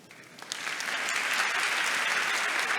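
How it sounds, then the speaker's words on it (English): Audience applause swells within the first half second and holds as a dense, loud wash of clapping at a sustainability youth conference opening, with no voices over it. "please, I would like to hear a big applause to her"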